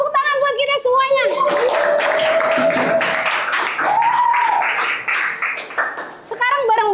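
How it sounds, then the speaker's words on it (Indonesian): Clapping from a group of children at an Islamic religious lesson rises under loud, sustained children's shouting and voices, ending with more excited cries. "Tepuk tangan buat kita semuanya."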